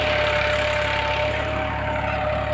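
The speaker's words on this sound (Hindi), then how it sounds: "ट्रैक्टर लगा हुआ है जी" A tractor engine runs in a wheat field, a steady, loud, close drone with a low rumble that holds unchanged throughout, and no voices.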